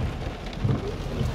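Heavy rain pours down steadily in a dense, close hiss, with low rumbling undertones swelling briefly.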